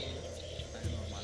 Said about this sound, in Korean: 지금 어떤 개구리들의 소리가 막 나고 있습니다